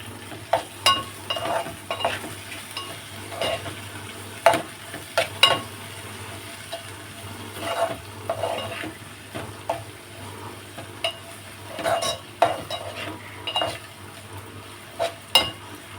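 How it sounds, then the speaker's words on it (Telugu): Onions with salt and chili powder are stirred in a pan for an onion milk curry, giving scattered close scrapes and clinks of a spoon against metal over a soft, continuous low sizzle. "ఇప్పుడు కొంచెం కారం, ఇప్పుడు కలుపుకుందాం."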